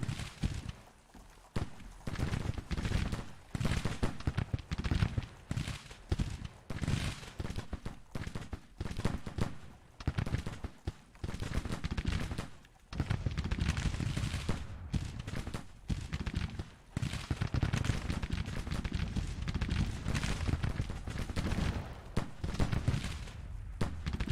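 Infantry brigade volleys in a Grand Tactician Civil War battle at Second Manassas: continuous crackling musketry, many overlapping shots rolling on steadily with brief lulls, loud and sustained throughout.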